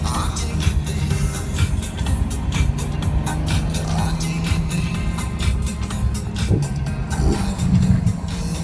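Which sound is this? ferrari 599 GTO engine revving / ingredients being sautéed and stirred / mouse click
ferrari 599 GTO engine revving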